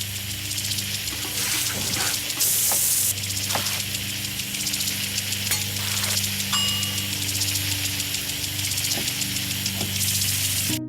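A kitchen sink tap runs steadily while surfaces, utensils and hands are washed with soapy water, a continuous hiss of flowing water with occasional clinks and splashes, close and even.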